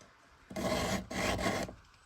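Hand file rasping across a chainsaw ripping chain for an Alaskan chainsaw mill, two close firm strokes in quick succession, each a scraping rasp with a short pause between, no voices.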